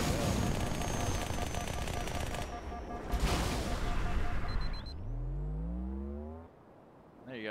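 Rapid SMG gunfire from a modded Halo game with boosted damage, a dense loud burst of shots for several seconds, then a rising engine-like whine as the player moves very fast.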